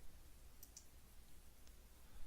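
A few faint, sharp mouse clicks on a computer, spaced irregularly in an otherwise near-silent room.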